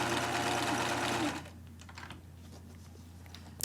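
A sewing machine stitches a small, tight zigzag along the inside edge of skirt fabric, running with a fast, steady whir for about a second and a half, then stopping; quiet clicks and handling noises follow.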